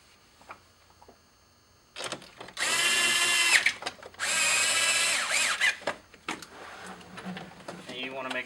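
A power driver runs T30 Torx screws back into the door of a Volkswagen GTI Mk5, sounding two sustained whirring bursts of a couple of seconds each, close and loud, with shorter clicks and handling noises around them.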